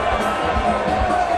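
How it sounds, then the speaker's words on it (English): A cricket crowd cheers and roars in a steady, dense wash of noise during a Pakistan versus Zambia match, with faint commentary underneath. "Garava bringing the crowd to life. They're loving it."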